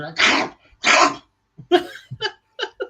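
A person voices a raspy, gurgling imitation of Gollum's cough: two harsh bursts, then a string of short throaty clicks and gulps.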